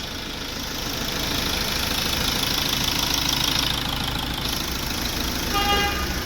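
A car engine runs at a steady idle after a gasket replacement, following a radiator that had burst. It is a continuous, even hum with a faint rattle, close and alone, and a brief higher tone comes near the end.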